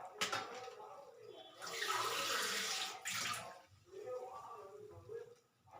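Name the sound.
water poured into a pot for payasam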